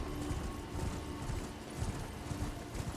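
Steady clip-clop of galloping horse hooves in Elden Ring, a fast continuous rhythm over a dense background of game noise, with no voices.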